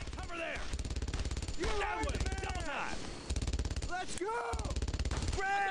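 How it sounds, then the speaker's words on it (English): Rapid gunfire in the World War II shooter Brothers in Arms: Road to Hill 30, a steady, quick-fire rattle held at a low level beneath voices shouting throughout. "Incoming fire!"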